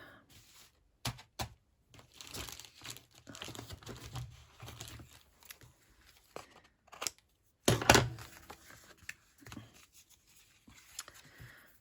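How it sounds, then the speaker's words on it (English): Card is snipped with scissors at a crafting table while making Christmas cards, a quiet scatter of short crinkly cuts and paper handling with one louder rustle near the end. "I'm going to snip that, not with those snips."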